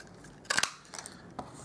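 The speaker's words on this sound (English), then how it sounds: "I'll grab my 1-inch circle punch, and I'm going to cut out my sun" A 1-inch paper circle punch cuts a paper circle: a quick, quiet crunching snap, up close, followed by a faint click.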